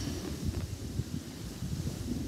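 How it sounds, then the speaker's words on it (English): Steady wind gusting at a lakeside house, a broad low rumble of buffeting air against the microphone, continuous and fairly close, with no voices. "It is very windy right now."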